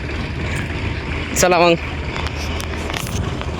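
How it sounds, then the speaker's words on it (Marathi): A tractor engine runs in a village, a steady low mechanical drone throughout, with a short burst of talking over it partway through. "ट्रॅक्टरचा आवाज येत आहे तुम्हाला"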